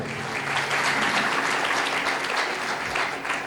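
An audience at a religious sermon claps loudly and continuously, a dense sustained burst of applause with no speech over it.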